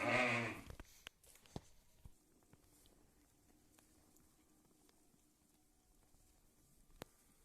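A sheep or lamb lets out one loud, close bleat at the start while the flock grazes on grass in a village pasture, then only faint scattered ticks and soft patter remain over a quiet background.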